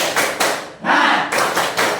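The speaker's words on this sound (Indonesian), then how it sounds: "Tepuk semangat." A classroom of students performs a rhythmic group clap, several sharp bursts in a quick patterned sequence, loud and close, with a longer swell of sound midway, no speech.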